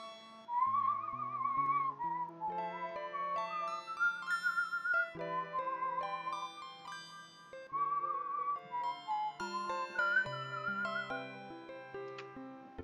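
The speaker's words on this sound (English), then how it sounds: "I can whistle a better tune!" A person whistles a melodic tune close by, clear sustained pitched notes gliding and stepping for several seconds over a soft, steady background of game music.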